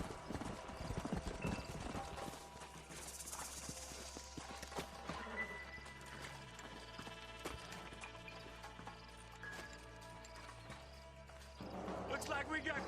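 Horse hooves clip-clopping in the Red Dead Redemption video game, a steady run of quick hoof beats with an occasional whinny over an ambient game bed, at moderate distance and fairly faint.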